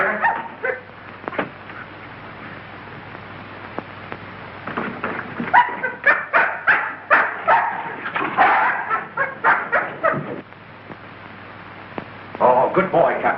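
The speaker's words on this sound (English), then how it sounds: "This dog's been struck a nasty blow." A dog barks repeatedly in rapid bursts, mixed with whimpers and yips, loud and close, in a 1933 mystery film scene after the dog has been struck a blow; the barking swells and fades in clusters.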